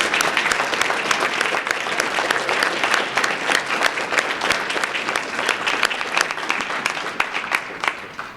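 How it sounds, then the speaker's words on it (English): Sustained audience applause for teachers standing at a school district's elementary essay contest event, dense steady clapping from a full room that holds even for over eight seconds before tapering slightly. "Let's give them a round of applause"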